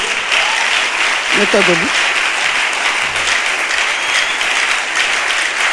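A church audience applauds Pastor Dieudonné Aké: a steady, dense wash of clapping that fills the whole stretch at an even level, with a brief voice or shout rising near the middle.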